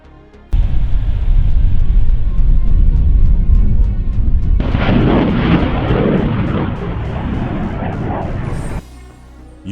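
HIMARS rockets fire in a long-range attack: a sudden loud roaring blast erupts, then sustains a heavy rumbling rush that swells midway and cuts off abruptly near the end.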